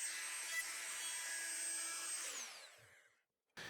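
A router with a flush trim bit cuts wood on a workbench vise jaw, whining steadily at close range before winding down, then briefly starting up again.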